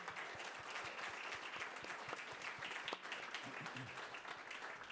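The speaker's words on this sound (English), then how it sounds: "Please, a round of applause for our wonderful panelists." Sustained applause from a conference audience for the panelists at the close of a panel discussion, dense steady clapping filling the whole stretch with no speech over it.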